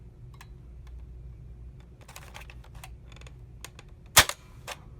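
Nerf Flipfury blaster fitted with an Orange Mod Works final stage, test fired once: a sharp, loud single crack near the end, preceded by light plastic clicks and handling.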